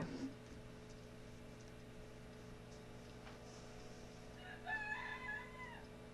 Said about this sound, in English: There goes my roosters.